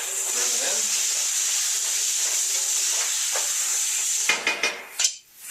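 Onions and apples sizzle steadily in hot oil, a constant close frying hiss, with a few clattering stirs of a utensil against the pan near the end.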